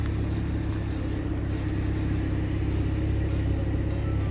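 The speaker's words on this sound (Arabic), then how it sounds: "السيارة هون اسمها نيسان سيلفيا" A Nissan Silvia's engine rumbles at a Dubai car meet, a steady, close, deep idle with no talk over it.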